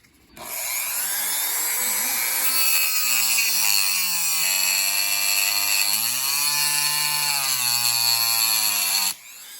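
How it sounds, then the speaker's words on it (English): A Dremel rotary tool with a cutoff wheel slices into a stripped screw on a rusty OFNA Mutilator nitro RC car, a steady high, whining grind that holds for about nine seconds at close range, its pitch sagging and rising with load, with no talk. "the cutting action of the Dremel cutoff wheel also heats the screw up"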